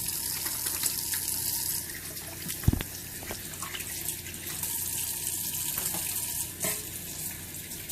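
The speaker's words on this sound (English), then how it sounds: "But now we have to wash our hands and cutting board with the chef's knife." Running water from a kitchen sink tap as hands and a cutting board used with a chef's knife are rinsed, a steady close splashing stream with one brief knock partway through.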